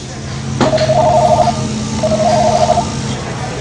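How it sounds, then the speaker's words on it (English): A telephone rings in two trilling electronic bursts under a low background hum, close and fairly loud, with faint voices in the background. "The phone's ringing a lot more."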